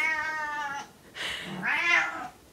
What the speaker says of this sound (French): mon chat vient de rentrer